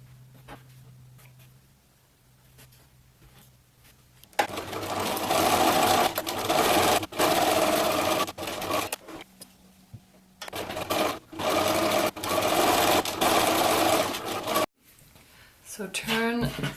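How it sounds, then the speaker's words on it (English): A sewing machine stitches felt seams for a handmade cupcake costume in several loud whirring bursts separated by pauses, with a voice talking during the quieter gaps. "we are going to pin these sides and then sew them with a 1/4 inch seam allowance"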